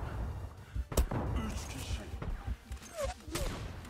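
Bombs exploding in the online shooter game Zula, several heavy blasts and thuds scattered among gunfire and game noise, with a player talking over the action.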